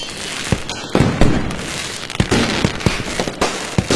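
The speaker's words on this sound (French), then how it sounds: "la détonation du feu d'artifice" Fireworks detonating in rapid irregular bursts, sharp cracks and booms overlapping, loud and close, with crackling between the bangs.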